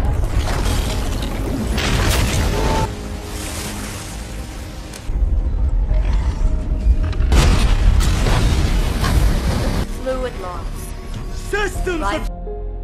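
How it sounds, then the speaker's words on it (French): A bomb detonates under the ocean with huge booming explosions, deep rumbling roars and crashing debris, loud and sustained, swelling again midway before fading into mechanical clanks. "Il déclenche la bombe, ce qui provoque une énorme explosion,"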